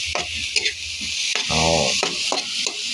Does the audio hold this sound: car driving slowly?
no